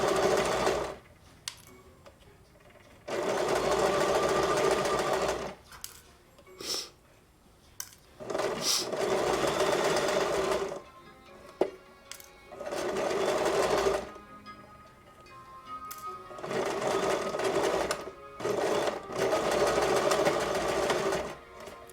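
A sewing machine stitches fabric while making ear savers, in several steady runs of mechanical whirring with short pauses between and quick back-and-forth bursts to lock the thread, close and fairly loud.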